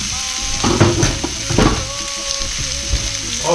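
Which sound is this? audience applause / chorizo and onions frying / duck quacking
chorizo and onions frying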